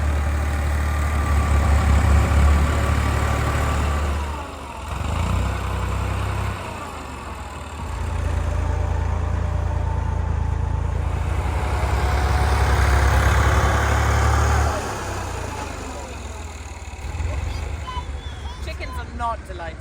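Tractor flattening a vegetable garden on a homestead: a loud, steady low diesel engine rumble that dips briefly a few times and swells back, with voices talking over it.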